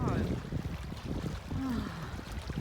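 Strong wind roars and buffets on a mountain hiking trail, a constant rushing gusty noise with a few faint voices mixed in.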